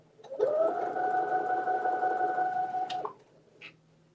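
A sewing machine stitching a pinwheel quilt block runs in one steady, even whir for nearly three seconds, then stops, leaving a faint hum and a small click.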